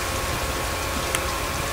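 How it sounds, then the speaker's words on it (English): Steady rain falls in Scribblenauts Unlimited, a soft, even hiss that continues through the brief moment with no other sounds rising above it. "Rain."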